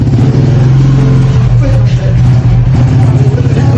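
A motorcycle engine fitted with a V8-style exhaust revs loud and close, holding a steady throbbing drone with slight fluctuations throughout.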